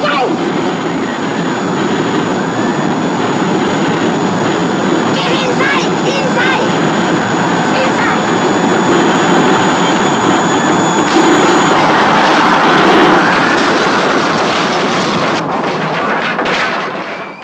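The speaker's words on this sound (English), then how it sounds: "Sounds like a jet, doesn't it?" A roaring, jet-like craft approaches in an old science-fiction film, a loud sustained rushing drone that swells and stays heavy throughout, with voices shouting beneath it.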